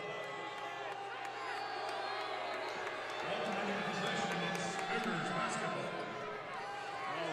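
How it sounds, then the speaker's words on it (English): Disgruntled home crowd in a college basketball arena at a Charleston vs Chattanooga men's game, a dense steady roar of voices with scattered shouts and sneaker squeaks filling the space. "Oh, the Chattanooga crowd not at all happy"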